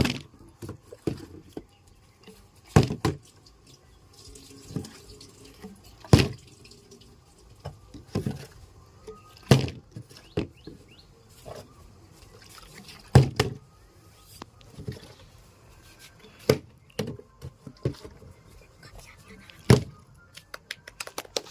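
Plastic water bottles flipped in a Bengali bottle-flip game, landing with sharp, separate thuds and clatters at irregular intervals across a quiet room, around a dozen impacts in all.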